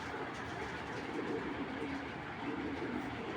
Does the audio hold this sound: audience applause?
no